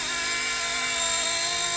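An RC scale MD500 helicopter with a brushless motor, flying in altitude-hold mode, gives off a steady, loud high-pitched whine and rotor buzz throughout, close by with no talk.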